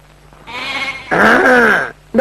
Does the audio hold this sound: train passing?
no